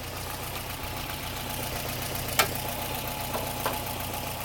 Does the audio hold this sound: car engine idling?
yes